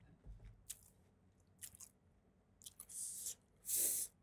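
Close, crisp bites and crunchy chewing on a spicy, red-coated KFC chicken drumstick, several irregular crackling bites that grow louder toward the end, with no talking.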